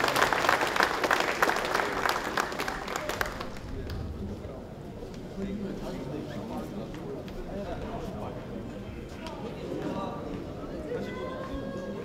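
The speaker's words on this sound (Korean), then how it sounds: "저희 신임 심판들에게 다시 한번 큰 격려의 박수 부탁드리겠습니다" Applause at a 2018 award ceremony for newly qualified referees, a burst of crowd clapping that lasts about three seconds before dying away into room noise, shuffling and scattered talk.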